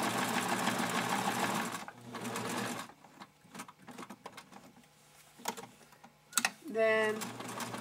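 A sewing machine stitches around a turn on a fabric doll, running in a loud continuous whir for about two seconds, then stopping. Scattered soft clicks and handling noises follow, with a short final burst of machine sound.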